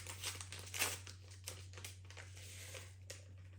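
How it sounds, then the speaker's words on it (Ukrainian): Soft crinkling of a small vanilla sugar packet being torn and handled, a few light rustles over a low steady hum. "Я додам пакетик ванільного цукру."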